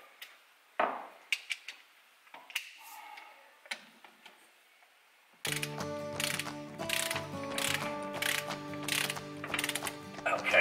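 Lambretta TS1 scooter gear parts are handled with scattered clicks and knocks, then a ratchet tightens them down in a dense, loud run of rapid clicking and mechanical rattling.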